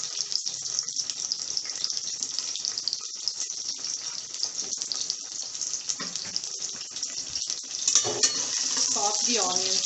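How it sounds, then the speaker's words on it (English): Onions with Indian spice sauté in a pan for peas pulav, giving a steady close sizzle with scattered stirring scrapes, growing slightly louder toward the end. "Saute the onions well."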